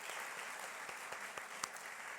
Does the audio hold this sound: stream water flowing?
no